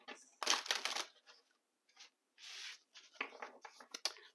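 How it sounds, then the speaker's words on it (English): A deck of oracle cards is shuffled in several quick riffling bursts separated by short pauses, close and crisp, with no talking. "One more shuffle."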